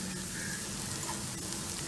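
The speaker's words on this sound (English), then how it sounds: "I'll just put the fried potatoes in it." Fried potatoes tipped into a hot pan of browned onions for a Hyderabadi biryani, giving a steady close sizzle and crackle with faint stirring scrapes.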